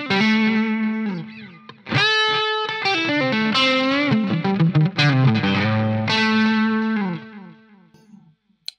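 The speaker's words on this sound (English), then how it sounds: "So if we now put on the boost and the delay." An electric guitar plays a boosted, slightly distorted lead line with sustained notes and echoing repeats trailing after each phrase, fading out at the end.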